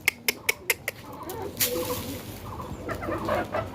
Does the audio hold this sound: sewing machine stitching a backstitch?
no